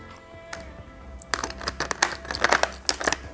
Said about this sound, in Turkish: şöyle Pino kutusunu açıyorum